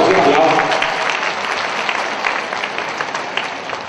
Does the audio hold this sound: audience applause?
yes